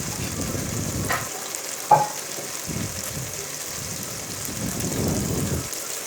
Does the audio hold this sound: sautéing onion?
yes